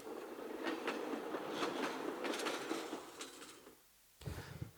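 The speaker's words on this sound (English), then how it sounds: "I can play any train sounds that I want" Train sounds played through a small speaker on a Lego train system: a steady rolling rail rumble with rhythmic clickety-clack accents, moderately faint, pausing briefly before resuming.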